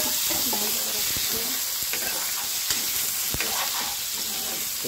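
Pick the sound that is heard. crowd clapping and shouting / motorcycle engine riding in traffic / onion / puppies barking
onion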